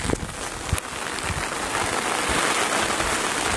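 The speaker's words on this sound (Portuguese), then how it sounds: "Começou a chover agora." Rain beginning to fall with rising wind in the rural backlands of Bahia, a steady broadband hiss that builds slightly over a few seconds, with no talking.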